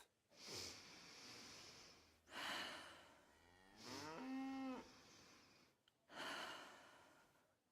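A patient character in the video game Kingdom Come Deliverance 2 gives four loud, drawn-out, cow-like moaning breaths, each a long groaning bellow separated by short pauses, with no speech between them.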